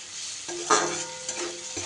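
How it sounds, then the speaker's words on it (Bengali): Tomato and coriander powder stirred and fried in hot oil for a fish curry, a steady soft sizzle with scraping spoon strokes, one louder stir near the middle, close and without voices. "টমেটোটা কয়েক সেকেন্ড নাড়াচাড়া করে নিয়ে এর মধ্যে দিয়ে দিচ্ছি আমি 1 চা চামচ ধনে গুঁড়ো"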